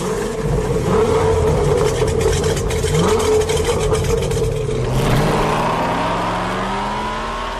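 A van and a car in a street outlaw drag race through a town's main street roar side by side at full throttle, engines rising in pitch as they pass, loud and close with no talking.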